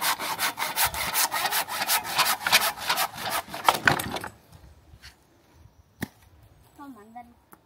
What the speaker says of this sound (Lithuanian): Pjaunam.